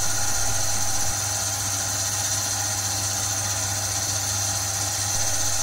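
A lathe turns a steam engine piston down to its final size with a steady mechanical hum and whine, continuous and even from start to finish.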